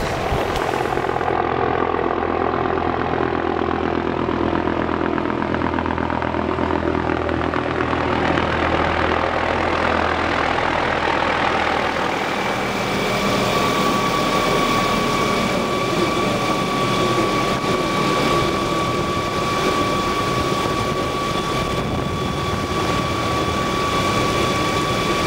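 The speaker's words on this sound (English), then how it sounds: "I think I hear that chopper. Yep, he's coming in." A helicopter arriving to pick up prospectors, a loud continuous rotor and engine roar filling the whole stretch, steady and close with a shifting tone partway through.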